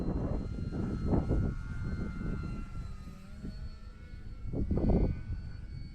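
An Arrows RC Tecnam 2010 model airplane flies overhead, its engine droning steadily and swelling louder in two passes, near the start and again near the end, over a constant background hiss.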